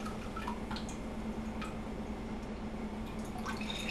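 Water drains and drips from soaked beans being strained over a sink, a faint, continuous trickle with scattered light drips and ticks.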